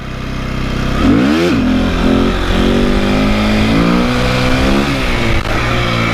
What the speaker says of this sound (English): I'm going to clutch in, give it some revs, and drop